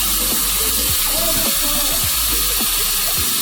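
Hot water runs steadily from a kitchen sink tap, a loud, continuous gush close by.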